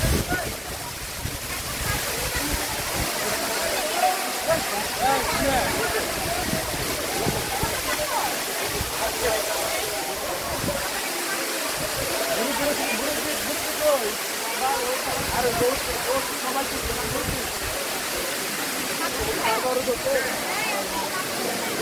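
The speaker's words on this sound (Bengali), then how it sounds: "এই যে ঝর্ণার পানি এদিক থেকে পড়ে এই যে এদিক থেকে বের হয়ে যাচ্ছে" The Dhuppani waterfall gives off a constant, loud, broadband rush of falling and flowing water, and a voice talks over it.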